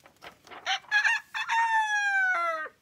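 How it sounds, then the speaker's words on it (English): A rooster crows once, loud and close, a long rising-then-falling cock-a-doodle-doo with a few short clucking notes leading in, in a video game. "It's a rooster chicken"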